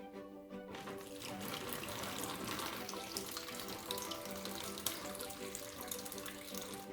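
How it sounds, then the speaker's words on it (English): Water poured carefully into a plastic bag, a steady splashing, rushing flow that runs continuously at close range, moderately loud and alone without talk. "very carefully, I'm going to pour the water in while I'm also trying to record"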